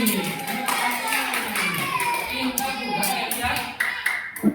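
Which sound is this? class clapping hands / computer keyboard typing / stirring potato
class clapping hands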